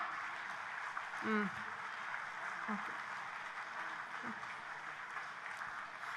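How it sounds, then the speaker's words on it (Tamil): An audience at an award function in Kovilpatti applauds a school students' dance performance, a broad, steady patter of many hands heard at a distance, with a few voices rising over it. "அப்ப நம்ம எவ்வளவு கைத்தட்டு கொடுக்கணும்."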